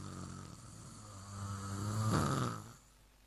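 A preacher at a village religious gathering imitates snoring with his voice, a single drawn-out rasping snore that swells loud over about two seconds, then fades.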